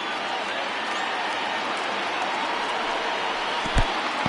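A crowd of about 22,000 at a Rangers–Angels baseball game stands and cheers, a steady broad roar of applause and voices filling the stadium, with a brief thump near the end.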